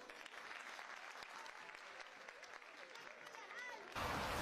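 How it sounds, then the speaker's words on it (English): An audience at a school event for first-graders claps, faint, distant applause mixed with crowd murmur, swelling abruptly louder near the end. "Please give us a big hand."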